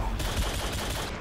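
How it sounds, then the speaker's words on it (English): Rapid gunfire in Modern Warfare 2, a quick burst of dense shots fired blindly into smoke, steady and fairly loud over a short span. "I'm just gonna shoot into this fucking smoke."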